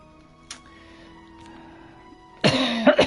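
A person coughs sharply a few times after a quiet stretch of faint game music and low tones, the bursts loud and close.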